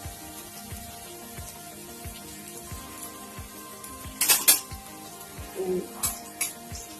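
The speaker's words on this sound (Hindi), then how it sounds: "दो 3 मिनट तक इसको हम तेज आंच पे प्याज को भूनेंगे।" Onions frying on high heat in a pan for egg bhurji, a faint steady sizzle with soft regular ticks, and a couple of brief sharp clinks near the end.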